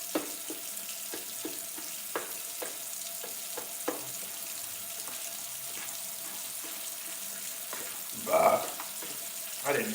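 Ground meat and onions frying in a pan for spaghetti sauce, with a steady close sizzle and periodic clicks of stirring and a brief clatter near the end.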